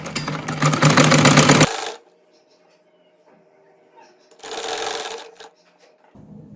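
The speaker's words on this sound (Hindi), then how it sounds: "इस तरह अपने जो ये क्यूब्स हैं इसके अंदर रख कर सिलाई लगाते जाना है" A sewing machine stitches cube-block patterns into a kameez hem. Two loud, close bursts of whirring are separated by a quiet pause, with faint handling noise in between.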